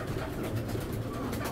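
A racer pigeon coos softly and continuously, its low murmuring call blending into steady, close background noise.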